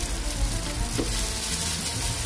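Rice for sinangag, Filipino garlic fried rice, fries in a hot pan with a dense, steady sizzle and crackle, loud and close throughout with no pauses.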